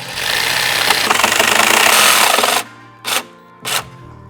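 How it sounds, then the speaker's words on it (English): A jigsaw cuts straight along a marked line while a door safety system is installed on a 2019+ Mercedes Sprinter. It gives a loud, steady buzzing rasp for over two seconds, then stops, followed by two short bursts. "So now I can take my jigsaw like this and kind of cut towards myself like this here"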